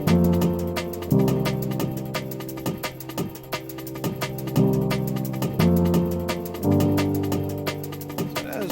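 A liquid drum and bass break programmed in FL Studio, with crisp snares, busy ghost hits and shimmering hats looping at a fast tempo over sustained chord tones, steady and alone without voices.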